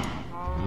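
A cow in Minecraft's Agrarian Skies modpack lets out a single drawn-out moo, near and clear, with no one talking over it.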